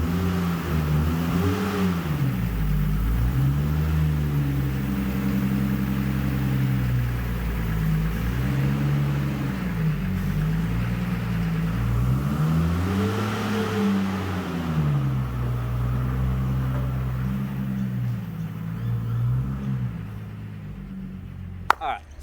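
A Nissan R31 wagon drift car engine warms up, a steady mid-pitched idle that slowly swells and dips in pitch a few times, heard close over a long stretch with music underneath.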